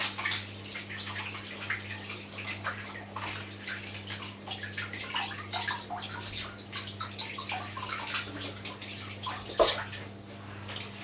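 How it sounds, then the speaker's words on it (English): A tap runs steadily in a home kitchen while hands are washed under it. The water is soft and continuous, with light splashing and a faint low hum behind it. "Wash my hands. Wash my hands, guys."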